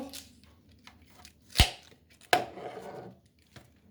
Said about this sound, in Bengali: এভাবে পিস পিস করে কেটে নেবো।